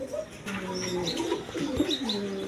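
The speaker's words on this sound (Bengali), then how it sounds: "দেখেন এক পেয়ার লক্ষা কবুতর আছে" A pair of Lakkha pigeons, a female and a male, coo in soft repeated rolling calls close by, with faint background noise and no clear talk.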